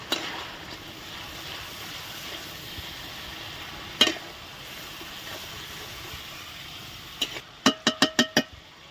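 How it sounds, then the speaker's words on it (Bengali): Spice paste with turmeric sautés and is stirred in a pan for a fish curry, with a steady soft sizzle under occasional scrapes. A quick run of five sharp, close utensil knocks on the pan comes near the end. "আমাদের মশলাটা খুব ভালো করে কষানো হয়ে গেছে"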